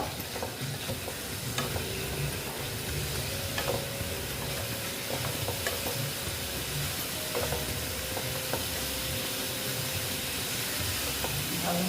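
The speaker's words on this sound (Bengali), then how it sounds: "এইবার আমি এটাকে ভালো মতন কষিয়ে নিচ্ছি দেখো" Sautéing koi fish curry base with potato and cauliflower, a close, even sizzle and hiss of frying under soft, irregular scrapes of a spoon stirring the pan, continuous throughout.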